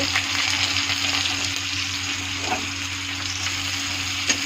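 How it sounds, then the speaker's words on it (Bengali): Raw onion and cumin fry in hot oil in a wok, giving a steady, close, continuous sizzle that runs the whole time with no talking. "একটু ভাজা ভাজা করবো লাল লাল করে।"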